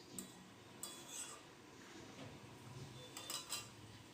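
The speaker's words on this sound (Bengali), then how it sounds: "ভেজে রাখা মাছ দিয়ে আবার আমি ভালো করে নেড়ে চেড়ে নিচ্ছি" Faint clinks of a spoon against a pot as fried fish is stirred into a simmering curry, with a few sharp metallic taps spaced across a quiet background.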